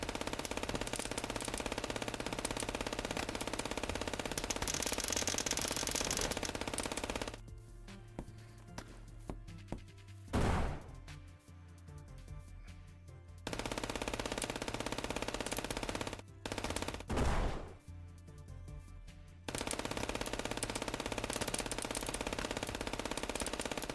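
Rapid automatic gunfire from a video game plays loudly for several seconds in bursts, cutting out into quieter gaps with a couple of sharp isolated shots before the firing resumes.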